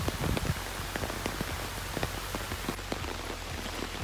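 Steady rain patters on a surface, with many close, sharp drop impacts scattered over a continuous hiss, no voices over it.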